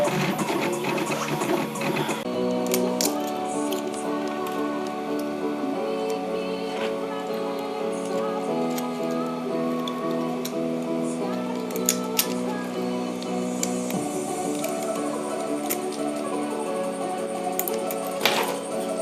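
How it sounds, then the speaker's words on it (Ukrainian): A homemade 3D printer runs continuously, its stepper motors whining in shifting pitched tones with occasional small clicks, steady and close throughout. "самая интересная фишка 3D принтера, что можно напечатать все, что угодно"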